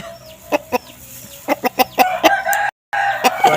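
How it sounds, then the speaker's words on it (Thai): A rooster, a bantam, crows loudly nearby, accompanied by a series of sharp clucks and wing-like bursts, with other fowl sounds in the background. "อันนี้เป็นพ่อไก่เนาะตัวนี้ เป็นเจ้าแจ้สมหวัง"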